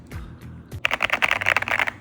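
Rapid typing on a pink mechanical keyboard, a dense run of crisp, close keystrokes after a brief low thump at the start.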